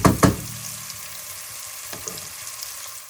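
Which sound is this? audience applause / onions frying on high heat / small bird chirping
onions frying on high heat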